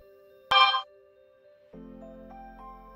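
Mobile phone notification: a short bright burst followed by a sustained chiming tone with a few higher pings, fairly loud and close in an otherwise quiet room.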